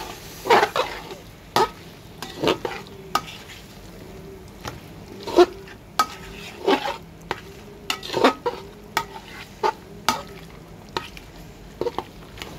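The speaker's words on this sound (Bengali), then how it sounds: "এবার আমি দিয়ে দেবো মাংসগুলো দিয়ে ভালো করে ভাজবো" Broiler chicken frying in oily spice paste in a pan, with a continuous sizzle and repeated scraping stirs and spatula knocks about once a second, close and fairly loud.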